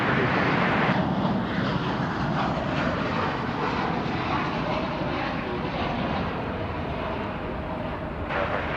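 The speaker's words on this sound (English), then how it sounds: "Here comes that flight from New Orleans. RNAV bar 18 left, clear for takeoff" An airliner on its takeoff roll from runway 18 left at Dallas Fort Worth Airport, a loud steady jet engine roar that slowly fades, with a voice talking over it.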